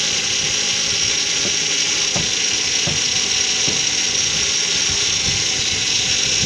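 A Ford Transit Connect engine running a system test makes irregular mechanical clicks and ratcheting ticks over a constant whirring engine hum, close by and fairly loud, with no voices.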